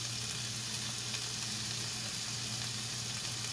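Chopped onion sizzling and frying in a pan on a gas stove for a cauliflower potato curry, a steady close hiss with faint low hum and no talking.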